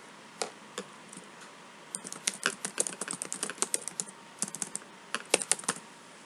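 Keys clatter on a computer keyboard while text is entered into an Excel spreadsheet: a few isolated taps, then quick irregular bursts of close, crisp keystrokes.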